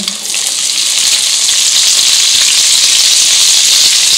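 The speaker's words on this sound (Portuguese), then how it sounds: "e vou refogando a cebola até ela começar a ficar transparente" Chopped medium onion sautés in a pan after sausage has browned, a loud, steady sizzle and fry that runs unbroken from start to finish.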